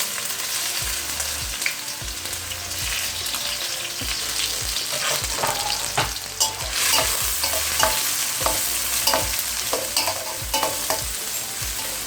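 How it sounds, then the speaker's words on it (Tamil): Chopped onion fries in hot oil, a loud continuous sizzle broken by frequent spatula scrapes and taps against the pan, close and without any voices. "இந்த நேரம் நான் இந்த வெங்காயத்தை இதில் போடுறேன்"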